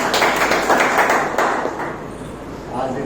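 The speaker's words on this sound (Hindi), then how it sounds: "आप लोगों के लिए जोरदार तालियां।" Audience clapping at an indoor meeting, a short burst of applause from a small crowd that fades over a few seconds, with a voice speaking over it.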